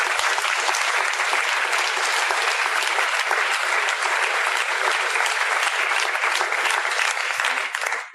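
Audience at a theatre performance applauding steadily and loudly for about eight seconds, a dense, even wash of clapping hands that carries through and fades only at the very end.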